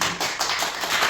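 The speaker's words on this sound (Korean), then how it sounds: "이럴 때는 박수를 칩니다." Hands clapping in a Bible memorization seminar, a short run of quick, close claps in a steady rhythm, heard alone without talk.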